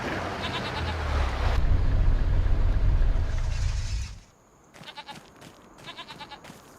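Goats in Farming Simulator 25 bleat in repeated short, nasal calls, first over a loud engine rumble of a vehicle pulling up, then more clearly after it cuts out, fairly close.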